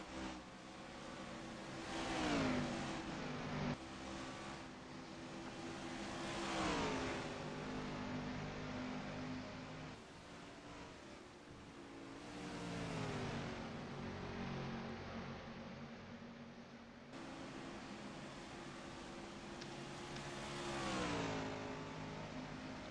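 Race car engines roar in the NR2003 racing game during a Cup Series race at a track called Hillside, a steady droning pack of cars with repeated revving swells and pitch sweeps as cars pass, continuous throughout.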